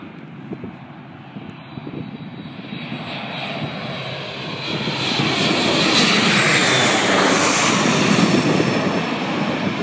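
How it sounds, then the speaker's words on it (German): A small propeller plane drones overhead, its engine noise swelling steadily louder as it passes close by, with no voices. "Das ist ein kleiner Flugzeug, ein kleines."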